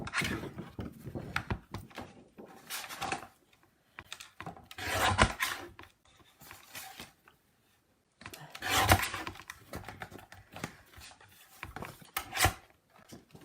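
White card is cut down with rasping, scraping strokes that come in uneven bursts, with two louder drawn-out passes standing out against quieter scratching, close and with no one talking.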